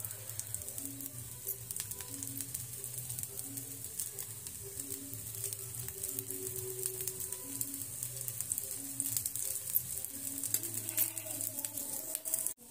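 Green moong dosa sizzles in oil on a hot pan, a steady crackling fry with soft patter, continuous and close throughout with no talk.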